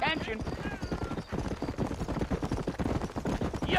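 Horse hooves clip-clop in a quick, steady rhythm in the Western video game Red Dead Redemption, fairly close, with a voice talking over the hoofbeats.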